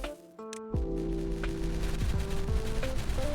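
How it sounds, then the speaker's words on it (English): Explosions in the Timberborn video game, several sharp booming blasts going off in quick succession over a steady low rumble, loud and near, with no talk. "Had to end the episode with some more explosions."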